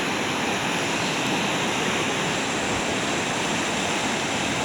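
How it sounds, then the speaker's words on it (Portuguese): The flooded Ipanema river rushes after a full day and night of rain, a loud, unbroken roar of fast-moving water close by, with no voices. "Olha a cheia do Rio Ipanema aí"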